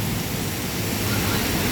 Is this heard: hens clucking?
no